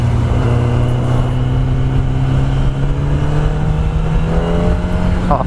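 A Kawasaki ZX10R 1000cc sport motorcycle engine hums loud and close with a steady, slowly rising tone, the throttle gently opened under wind noise while riding.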